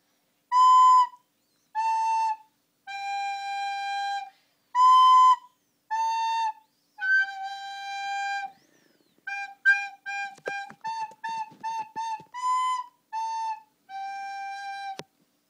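A recorder plays a simple melody of clear, separated notes, some short and some held, in a steady rhythm with brief pauses between phrases.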